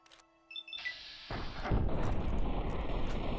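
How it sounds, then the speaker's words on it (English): A huge explosion in the video game Fallout New Vegas bursts in after a brief stretch of quieter game sounds, then swells into a loud, sustained roaring rumble that fills the rest of the moment, with no talk. "Wow, that is a huge explosion."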